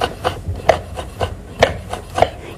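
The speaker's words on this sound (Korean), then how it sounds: "이제 칼질이요." A kitchen knife mincing shishito peppers on a wooden cutting board makes about half a dozen close, soft, evenly spaced chopping taps with no voices.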